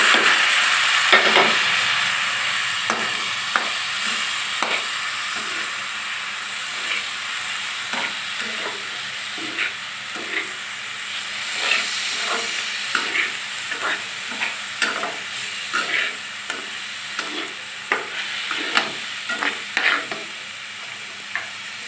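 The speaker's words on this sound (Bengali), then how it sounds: "এটা আমি একসাথে এখন ভেজে নেব।" Washed and drained rice and two kinds of lentils fry together in oil in a pan, with steady sizzling and repeated scraping stir strokes from a spoon, loud and close, with no talking.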